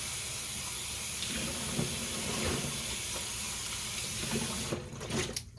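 Tap water runs steadily into a sink during rinsing while making autumn apple soap, a continuous close hiss and splash that cuts off near the end, leaving a few small drips and clatters.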